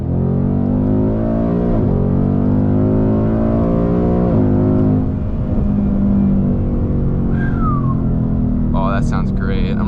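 A 2022 Ford Mustang GT V8 accelerates on back roads, its engine climbing loudly in pitch and dropping with each automatic upshift, a few sweeps repeating before a steadier drone while someone talks briefly near the end.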